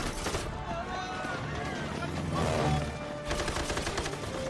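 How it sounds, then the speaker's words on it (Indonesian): Rapid gunfire from a plane attacking a royal caravan in the film Black Gold, loud sustained bursts of shots with engine roar and shouting voices mixed in the battle noise. "pesawat yang diutus Raja Nasib menyerang rombongan pangeran dengan melepaskan tembakan secara membabi buta"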